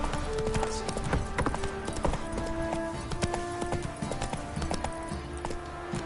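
Horse hooves clip-clopping at a steady walking rhythm in The Witcher 3: Wild Hunt, close and distinct over a faint game background.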